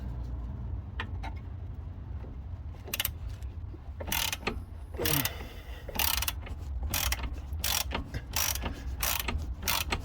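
A ratchet loosens a bolt on a BMW 5 Series front suspension during spring replacement, giving bursts of rapid clicking strokes in uneven rhythm, close and fairly loud, with no talking.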